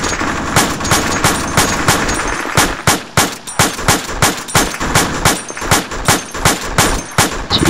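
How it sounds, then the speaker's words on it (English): A machine gun fires close by in the military game ArmA 2, loud and relentless, a long run of rapid shots in tight rhythmic bursts with heavy booming echo and no pauses. "I've just been deafened by that machine gun next to me"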